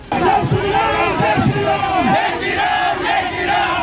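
Protesters gathered on a road sit down and chant slogans, a dense, loud crowd of overlapping shouting voices rising and falling in rhythmic bursts throughout.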